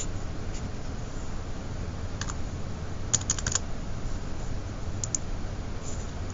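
Soft, scattered clicks come from a computer keyboard as an answer is typed, a few keys at a time over a steady low room noise.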